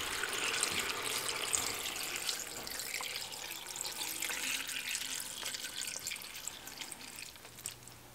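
Water runs steadily from a tap into a cooking pot already holding bacon grease, a continuous splashing pour with faint drips and a light sizzle beneath, heard alone at moderate level.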